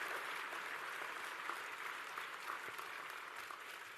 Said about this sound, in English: Could you please give him a round of applause as well?